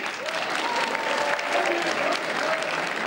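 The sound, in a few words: audience applause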